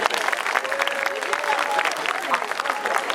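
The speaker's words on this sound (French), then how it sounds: "Donc on peut les applaudir s'il vous plaît." An audience applauding at a community gathering in Wallonia–Brussels, brisk sustained clapping from a crowd with faint voices underneath.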